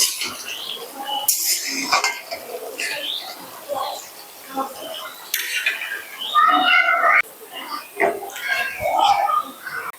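A spoon stirs garam masala into fish curry (pakhal teljhal) in a pan, producing scattered clinks and scrapes against the metal while a person talks throughout.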